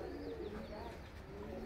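Pigeons coo softly at a village home, their low, rounded calls repeating in a gentle, continuous murmur heard at a modest distance with no talking.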